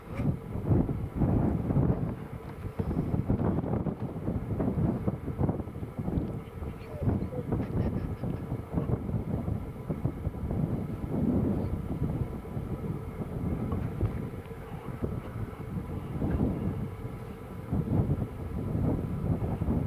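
Lufthansa Boeing 747 flying overhead, a broad steady roar of jet engines sustained throughout, buffeted by wind noise on the microphone.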